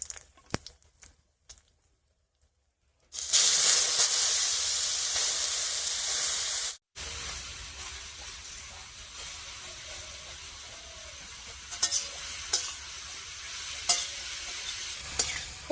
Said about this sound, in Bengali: ফোড়নের উপরে পেঁপেটা দিয়ে একটু নাড়িয়ে নিয়েছি